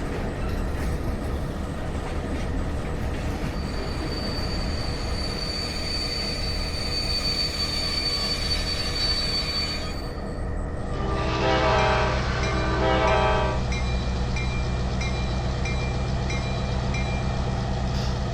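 A model train rumbles along the layout track with a steady metallic roll, a high squeal through the first half, then a brief burst of clanking wheel noise.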